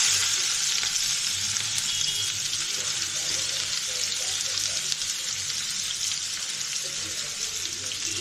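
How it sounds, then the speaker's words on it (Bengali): Sliced onion fries in hot oil with cloves, cardamom and cinnamon, giving a steady, moderately loud sizzle with faint stirring scrapes throughout. "এবার গরম মশলা দিলাম, লবঙ্গ, এলাচ, দারচিনি দিয়ে পেঁয়াজটা দিচ্ছি"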